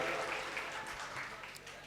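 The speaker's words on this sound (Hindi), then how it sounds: "एक बार मुशायरे के लिए अपने लिए जोरदार ताली बजाइए" A mushaira audience at an All India Mushaira gathering claps, a dense patter of many hands that is loudest at first and slowly eases off over the brief stretch.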